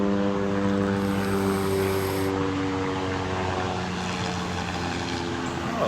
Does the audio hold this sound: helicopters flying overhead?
yes